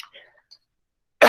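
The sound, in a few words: coughing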